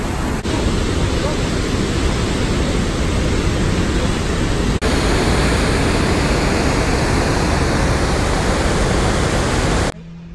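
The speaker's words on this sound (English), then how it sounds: "there's pretty waterfall" A waterfall roars loudly and continuously close at hand, a dense even wash of rushing water with a small jolt partway through, ending abruptly.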